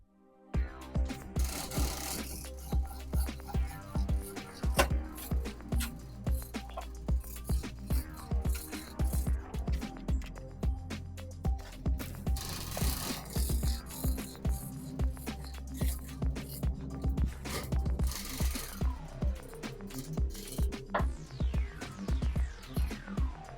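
The cab of a Unimog 421, 406 or 416 truck is tilted, with loud, close, rhythmic creaking and rattling strokes repeating steadily throughout, mixed with metallic clanks and no talking.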